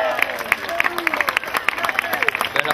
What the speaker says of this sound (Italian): Bel applauso Andrea.